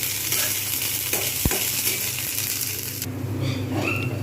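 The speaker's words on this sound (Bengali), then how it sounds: "হলুদটা আমি দিয়ে দেবো জাস্ট নেড়ে নেবো" Chana dal with turmeric frying in a pan gives a steady sizzle with a sharp stirring clink, then the sizzle drops away abruptly near the end, leaving softer clatter.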